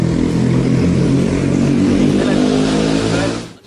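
A Kawasaki ZX150 (RR ZX150) motorcycle, a restored black bike, revving steadily and loudly up close with a dense two-stroke engine drone that drops off at the end.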